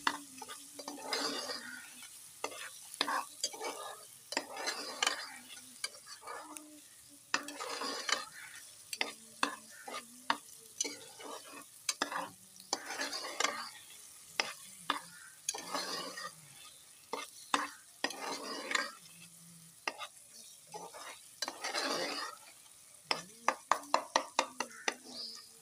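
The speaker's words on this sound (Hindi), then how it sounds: "और चमचा साथ साथ चलाते रहेंगे हम ताकि ये भी नीचे ना लग सके।" A spoon repeatedly stirs and scrapes chicken karahi in a frying pan, giving irregular clattering strokes and scrapes over a low, faint sizzle, close by and continuing throughout.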